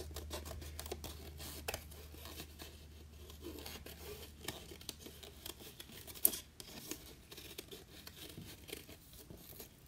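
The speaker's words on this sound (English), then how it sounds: "we're going to take our scissors and make sure the card's folded and cut that out." Quiet, close scissors snipping through stiff card in short irregular cuts, with faint rustling and no talking.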